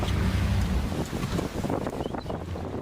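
Aboard a rescue ship at sea, a low rumbling engine drone mixes with wind buffeting and the churn of waves, loud and continuous without speech.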